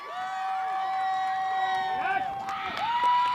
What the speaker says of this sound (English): It's a big ovation from the crowd as she steps in the box.